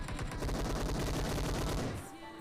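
Battle royale video game gunfire: rapid bursts of automatic rifle shots rattling in a dense, steady stream for about two seconds before cutting off, leaving quieter game sounds behind.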